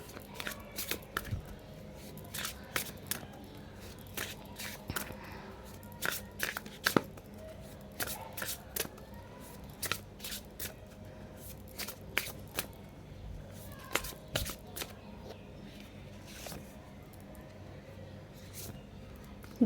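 Oracle cards shuffled by hand, dozens of quick crisp riffles and flicks in irregular bursts, close and quiet, with no talk over them.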